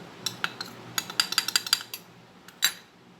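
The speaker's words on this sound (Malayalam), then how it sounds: "നമുക്ക് ഈ വെണ്ടയ്ക്ക് എല്ലാം ചേർത്തൊന്ന് മിക്സ് ചെയ്യണം" Sliced okra being mixed with cornflour in a bowl: a quick run of light clinks and taps of a spoon against the bowl, close and fairly crisp, with no talking.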